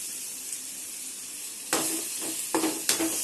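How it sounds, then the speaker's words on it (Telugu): Grated raw mango frying in a pan with curry leaves for pulihora, a soft steady sizzle that swells into bursts of hissing and scraping as it is stirred, close and with no talk. "ఇవన్నీ బాగా ఒక 2 మినిట్స్ వేయించుకుంటే చాలు."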